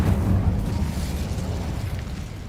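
Incendio fire spell cast in Hogwarts Legacy, a loud rumbling burst of flame that rolls on for a couple of seconds and slowly fades.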